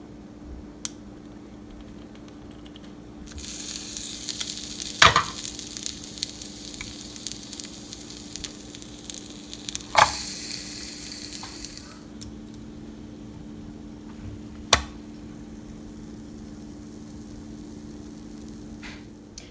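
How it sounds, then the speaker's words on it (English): Vegan keto waffles cook in a waffle maker, a steady soft sizzle and hiss with a low hum underneath and occasional sharp clicks and pops, no talking. "we're going to get these waffles cooking"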